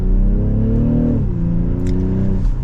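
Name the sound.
BMW X6 xDrive40i setting off and accelerating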